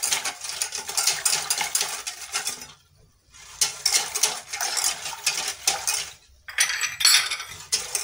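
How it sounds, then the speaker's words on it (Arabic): A utensil scrapes and clinks steadily against a bowl as cake cream ingredients, including grated lemon zest and a spoonful of starch, are stirred together, in close bursts broken by two short pauses. "غادي نخلطو هاد المقادير كاملة"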